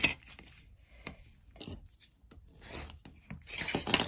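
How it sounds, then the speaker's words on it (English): Fabric seam allowance being trimmed with scissors, giving soft, close rubbing and snipping sounds in irregular bursts with short pauses, no voices. "So I'm going to trim the seam allowance here."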